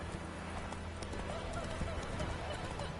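Hooves of the horse Roach clip-clop in a rhythmic trot in The Witcher 3, a steady near gait set against game ambience.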